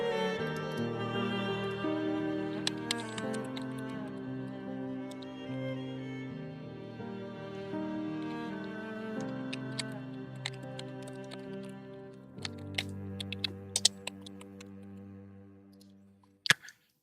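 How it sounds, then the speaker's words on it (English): Computer keyboard typing during a live art stream, scattered quiet clicks and taps under sustained tonal music, with a few sharper keystrokes near the end. "So it's also picking up all of my keyboard as well."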